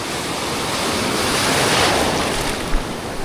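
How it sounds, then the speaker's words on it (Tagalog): A big ocean wave surges and roars close by, swelling and then easing off, with wind buffeting the microphone. "Ay, may malaki pang alon."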